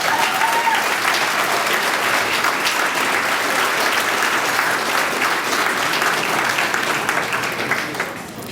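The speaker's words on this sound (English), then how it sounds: "Please give them a round of applause." An audience gives a sustained round of applause for Canadian armed forces veterans, loud and dense clapping that holds steady and then begins to thin out at the end.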